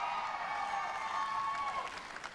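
Crowd cheering and applause at the E3 2019 Square-Enix conference, a steady distant roar of clapping and cheers with faint voices on top.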